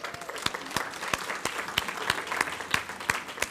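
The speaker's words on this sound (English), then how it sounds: "I want to just have you give yourselves a round of applause for joining us." Attendees at a townhall luncheon applaud, with a steady crowd clapping and sharp individual claps cracking out at a roughly regular beat, close and clear, with no speech over it.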